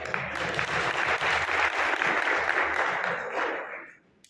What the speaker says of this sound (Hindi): अब भाई साहब ताली ही बजती है